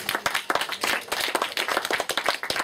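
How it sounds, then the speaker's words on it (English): Audience applause for a speaker introduced to give a talk on ayahuasca visions, a steady patter of many hands clapping close by for a few seconds with no talking over it. "Please give a warm round of applause for Larry."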